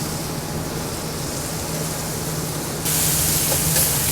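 Onions browning in rendered fat in a thin paella pan over a lively flame, giving a steady close hiss and sizzle with a faint hum underneath that grows louder and brighter partway through.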